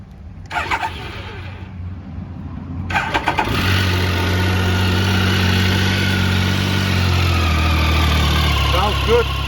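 A Triumph Tiger 1050 motorcycle engine is cranked and fires up after a couple of starter attempts, then settles into a loud, steady close idle for several seconds, with no talking.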